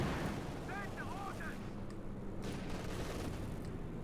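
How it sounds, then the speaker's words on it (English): Dense, rumbling bursts of explosions and heavy fire roll continuously from P-47 rocket strikes in the video game Company of Heroes 2, with someone talking over the din. "More P-47s though, more rockets, more explosions."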